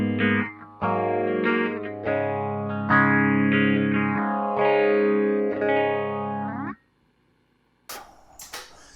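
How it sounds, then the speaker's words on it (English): Electric guitar through a Phase 90 style phaser pedal, a sequence of sustained chords and notes with a sweeping, swirling tone, followed by silence and a few sharp clicks at the end. "I have just a regular like phase 90 type sound"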